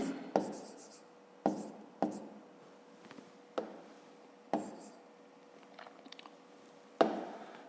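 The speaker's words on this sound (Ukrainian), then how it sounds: "Записуємо." Pen strokes scratch across paper as a math solution is written out by hand, with soft, steady scribbling and sharp taps every second or so as the pen lands, close and fairly quiet with no talking.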